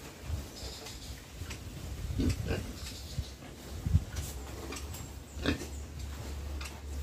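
Pigs on a farm eat noisily nearby, with irregular crunching, chomping and snuffling bursts over a low background hum.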